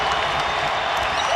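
Basketball crowd inside the Syracuse dome during a Buffalo at Syracuse men's college game, a loud, steady roar of cheering and clapping that fills the whole space and never lets up.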